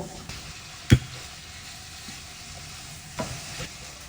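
Fish frying in hot oil for a vegetable soup, a steady sizzle running throughout with a sharp clatter near the start and a couple of softer knocks later, no voices.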